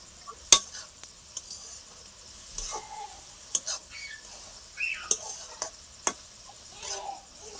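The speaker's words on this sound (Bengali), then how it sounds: "ভালোভাবে নাড়াচাড়া করে" Boiled bamboo shoots are stirred in a pan, giving irregular scrapes and sharp clicks of a utensil against the metal over a faint sizzle, with soft whispery voices in between.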